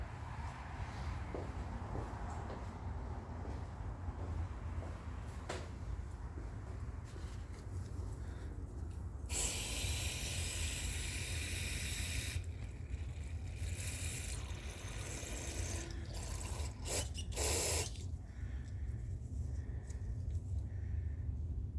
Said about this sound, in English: Let me spray it with some cleaner.